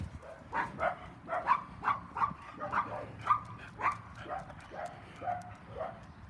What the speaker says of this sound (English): Along the way, you're always going to walk into smaller dogs.